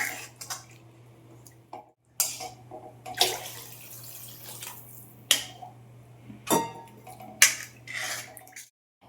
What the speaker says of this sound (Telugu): ఇదిగోండి వాటర్ వేసుకున్నాం కదా